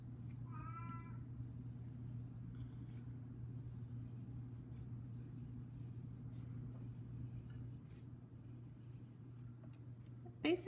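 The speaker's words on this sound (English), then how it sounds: "that's my cat" A cat gives one short, clear meow near the start, above a steady low hum in an otherwise quiet room.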